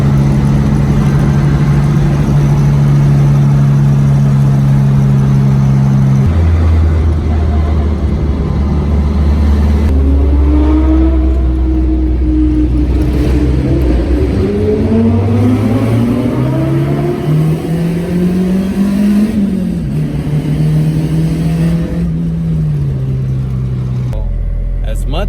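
A Toyota 3SGE Beams engine fitted with 52mm individual throttle bodies, in a KE70/TE72 car on a morning tuning run, revs repeatedly, its loud pitch sweeping up and down over about twenty-five seconds with steady road roar beneath.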